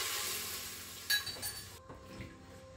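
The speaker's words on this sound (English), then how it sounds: "give that a bit of a scrape just to get the flavour off the bottom of the pot" A spoon scrapes and stirs stock across the bottom of a pressure cooker pot in sauté mode, giving a few faint clinks and scrapes over a soft background hiss.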